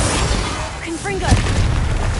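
Confringo, the fiery blast spell in Hogwarts Legacy, goes off in a booming explosion amid game combat, with a deep impact thump and overlapping spoken voices and effects.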